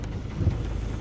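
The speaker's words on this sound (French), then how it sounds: "vaut mieux que ça pleuve comme ça" Steady rain falling during a wet spell, a dense even hiss with low rumbling underneath and no voices, constant throughout.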